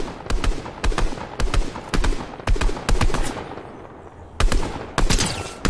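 Rapid gunfire in the video game Fortnite: repeated sharp bursts of automatic shots in clusters with brief pauses, loud and close, with no talk over them.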